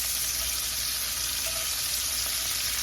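Food fries in a pan on a home stove, a loud, dense and unbroken crackling sizzle that holds steady throughout with no talking.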